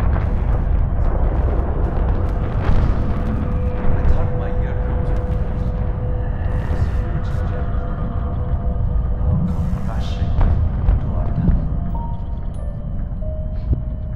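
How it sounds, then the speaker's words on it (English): The South Tower collapsing in New York on September 11, a continuous heavy roar and rumble filling the whole stretch, loud and sustained with scattered crackles and distant noise layered over it. "The building I'd approached, the South Tower, was finally imploding and going down."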